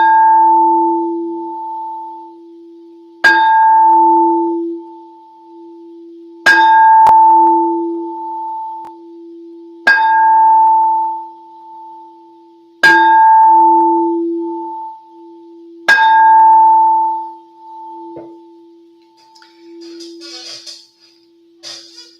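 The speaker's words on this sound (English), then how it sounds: "Mike, I'm gonna ring the bell like in Spider-Man" A bell is struck six times at an even, unhurried pace, each hit a loud close clang that rings out with a sustained humming tone before the next strike, followed by faint trailing noise.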